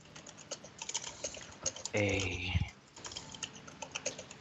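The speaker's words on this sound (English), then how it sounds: "you're typing" Keys clatter on a computer keyboard in irregular bursts of quiet, close clicks, with a brief humming tone briefly rising over the tapping near the middle.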